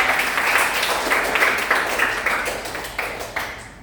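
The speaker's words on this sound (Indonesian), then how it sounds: "tepuk tangan untuk kalian semua" A class of students applauds in a classroom, a loud, sustained burst of clapping with a rhythmic pulse that gradually tapers off.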